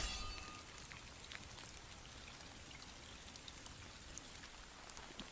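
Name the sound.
rain falling by a river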